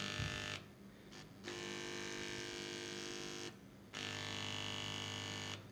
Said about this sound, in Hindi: ये हल्की हल्की सी बीप आपको सुनाई दे रही है।